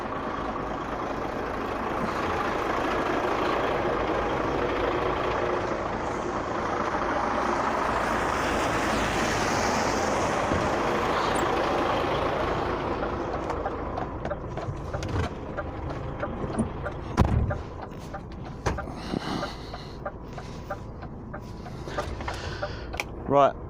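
A filthy lorry idles on a snowy road, its engine a steady low rumble that gives way to scattered knocks and clunks, with voices talking over it.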